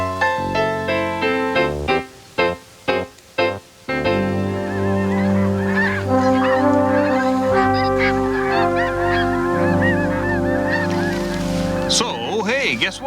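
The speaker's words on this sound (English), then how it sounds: "We just saw a rare bird for the Okanagan just off the main highway here. Greater white-fronted goose." Greater white-fronted goose mixed with a flock of Canada geese beside a highway in the Okanagan, honking loudly and continuously in a dense overlapping chorus, with brief gaps early on before the calling swells into a steady clamor.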